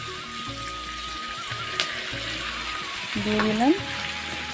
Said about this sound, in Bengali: তেলটা আমার গরম হয়ে গেছে, এখন আমি পেঁয়াজ দিয়ে দেব। রসুনের কোয়াগুলো দিয়ে দিচ্ছি।